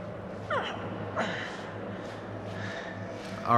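Breathing sounds from the horror video game Until Dawn: a couple of sharp gasping inhales, close and fairly quiet, over a low ambient hum.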